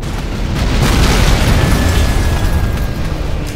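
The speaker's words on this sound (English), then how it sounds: "Dropping off the fuel air bombs." Fuel air bombs detonate in the C&C Generals strategy game as a loud, rolling explosion that lingers into a sustained deep rumble.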